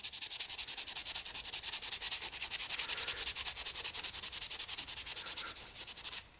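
Steel wool or Scotch-Brite buffing a painted Robotech Cyclone display helmet, producing fast, regular rasping strokes at close range that keep a steady rhythm before stopping abruptly.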